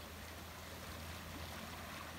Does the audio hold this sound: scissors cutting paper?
no